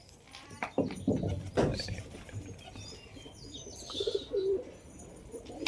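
Pigeons coo softly in a quiet outdoor spot, with a few faint, scattered calls and light rustling and clatter in the background.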